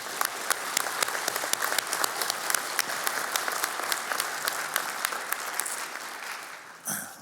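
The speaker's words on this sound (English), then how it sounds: "Let's give them a round of applause." A commencement audience applauds the platform party with dense, steady clapping from a large crowd that holds at an even level for about seven seconds, then cuts off sharply near the end.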